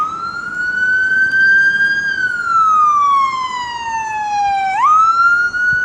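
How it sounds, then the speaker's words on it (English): A fire engine siren wails loud and near, its pitch sweeping up, holding, sliding down and then jumping back up again, passing a station in Solihull with no voices over it. "We've got a fire engine."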